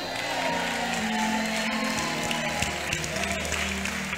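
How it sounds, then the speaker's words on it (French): An audience claps together with some cheering and whoops, a continuous crowd sound with low voices and tones running underneath throughout. "La façon que tu applaudis."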